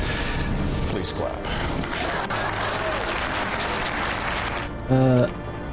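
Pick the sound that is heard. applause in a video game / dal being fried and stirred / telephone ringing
applause in a video game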